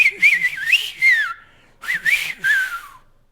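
Whistled speech in the silbo language of Gran Canaria, two clear melodic phrases of rising and falling pitch glides separated by a short pause, loud and close.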